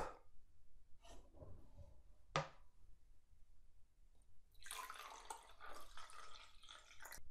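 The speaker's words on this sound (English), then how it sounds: "Pour some water into a cup." Water poured from a bottle into a cup: a few soft, isolated drips and splashes come first, then a steady, bright trickling pour fills the last couple of seconds, quiet and close with no talking.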